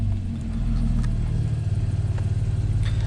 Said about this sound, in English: Let me start it up, because this car does sound incredible actually.